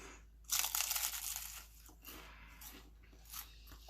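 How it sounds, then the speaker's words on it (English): A crisp crunch as brittle phyllo pastry of an apple turnover is bitten, followed by a few softer crackling chews, close and quiet. "Can you listen how crunchy it is?"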